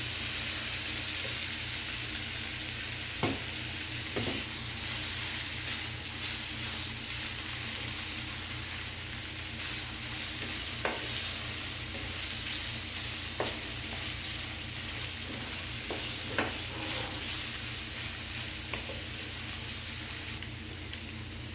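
Chicken sizzles and fries steadily in a pan, a constant crackling hiss with occasional clinks of a utensil stirring.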